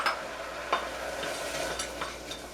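Maple syrup and brown sugar stirred together in a pan for a peanut butter cake, soft scraping and swishing strokes with a faint bubbling sizzle, close and quiet, no voices.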